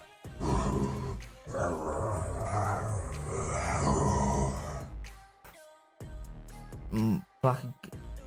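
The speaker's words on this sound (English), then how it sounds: "And he's growling, not even using words anymore." An anime character growls in a rough, strained voice without words, sustained and loud at first, then breaking into shorter grunting bursts near the end.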